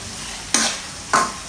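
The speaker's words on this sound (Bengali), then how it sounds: "পেঁয়াজ লাল হওয়া পর্যন্ত আমরা এটাকে তেলে দিয়ে ভাজবো।" Onions frying in oil for beef curry, a constant sizzling hiss broken by two quick, loud scraping stirs close by.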